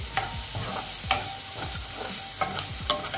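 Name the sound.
stirring turmeric into beetroot mixture in a pan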